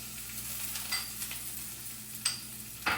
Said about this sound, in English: we're gonna throw both our onions and our carrots into the oil